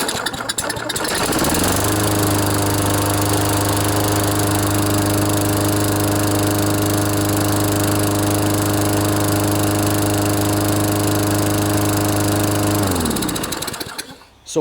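Toro GTS lawnmower with a Tecumseh engine after a carburetor rebuild, starting up and then running loud and steady at a constant pitch for about eleven seconds before shutting down, close by.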